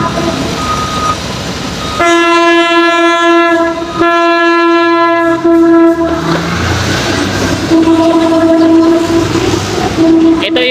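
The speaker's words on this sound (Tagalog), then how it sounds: "So andyan na yung tren mga kasikap" A train passes close by near the NSCR rail works at Algeciras Street, sounding its horn in long, loud blasts over a heavy rolling rumble of wheels and wagons.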